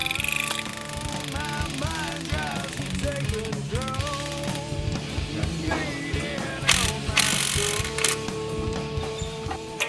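An air impact wrench rattles in short bursts while seating lug nuts onto a wheel hub in a workshop, mixed with clanks and whirring mechanical noise.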